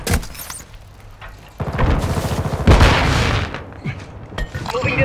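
A stun grenade goes off in the shooter game Call of Duty Modern Warfare II during a Domination match, a loud close burst and rumbling blast amid ongoing gunfire and battle noise.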